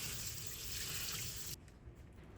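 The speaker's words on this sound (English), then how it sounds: "I'm also going to rinse some bean sprouts to make a Korean side dish." Running tap water pours steadily over bean sprouts being rinsed in a kitchen sink, a constant broadband rush for about a second and a half before the flow cuts off, leaving faint drips and quiet handling sounds.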